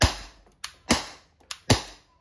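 An Umarex TR50 .50 caliber CO2 airgun revolver fires three sharp, close shots about 0.9 seconds apart, each a loud crack that decays quickly, with fainter mechanical clicks in between.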